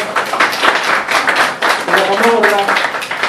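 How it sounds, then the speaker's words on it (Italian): Applause from an audience at a public meeting in Ostia greeting a magistrate and author, dense broadband clapping throughout with voices rising over it near the end. "applauso"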